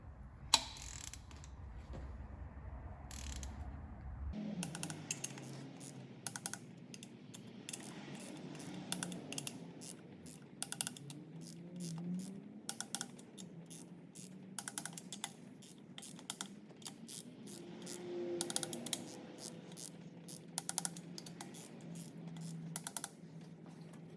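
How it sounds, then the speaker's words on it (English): Rapid ratcheting clicks from a torque wrench tightening cylinder head studs on a 1.9 TDI PD racing engine build with a Veicomer cylinder head, close and crisp. The clicks repeat irregularly over a low workshop hum, with no talk. "So now we're going to torque these head studs, 45 newtons on all of them."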